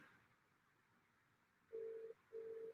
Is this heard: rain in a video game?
no